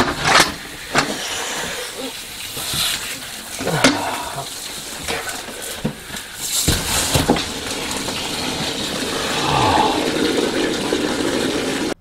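Water draining from a disconnected pressurized line into a held bucket, a steady splashing and trickling wash with several sharp clanks and knocks along the way, close and fairly loud throughout.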